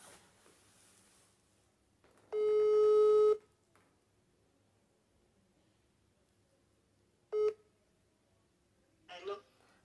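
Electronic telephone tone after a call drops from poor network during an online driving-theory lecture: one loud steady tone of about a second, a much shorter burst later, then a brief rustle over a quiet room.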